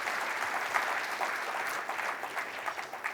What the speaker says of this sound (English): Give them a big hand, big round of applause.